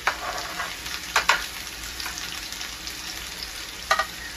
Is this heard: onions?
yes